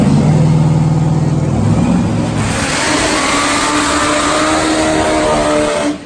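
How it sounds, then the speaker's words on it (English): Top fuel nitro drag motorcycles roar through side-by-side burnouts at a drag strip, a loud, sustained engine blare that rises and then holds at full intensity before cutting off sharply at the end. "Side-by-side burnouts for for the rider from Greece, right-hand lane"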